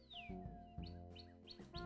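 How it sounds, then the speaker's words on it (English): Birds chirp up close in a quick series of short, bright tweets over a faint steady tone, with no voices. "The birds."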